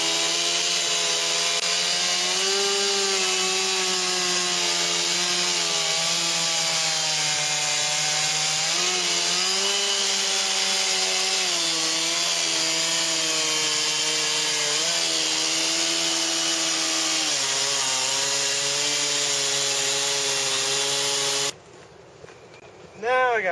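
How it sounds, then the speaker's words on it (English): A chainsaw cuts a wooden board smooth at an off-grid house build, its engine whining loud and steady with pitch dipping under load, then cutting off abruptly near the end. "I'm going to go get the chainsaw and just cut this off smooth."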